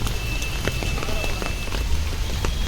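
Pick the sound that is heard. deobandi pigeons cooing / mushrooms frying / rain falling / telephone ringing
rain falling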